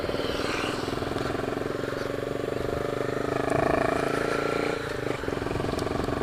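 A motorcycle's fuel injection pump making noise, heard as a steady engine hum with a faint whining tone and a brief rise in the middle.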